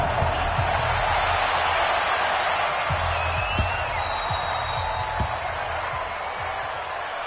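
Stadium crowd roar from the Madden 20 video game at a Seattle Seahawks versus Dallas Cowboys matchup, a steady broad wash of cheering with scattered thumps and a faint whistle-like tone, no talk over it.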